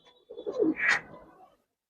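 A domestic coloured pigeon held for sale coos once nearby, a short soft throaty rolling call rising and then fading.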